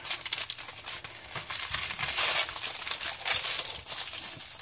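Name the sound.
unwrapping a package wrapped in a plastic bag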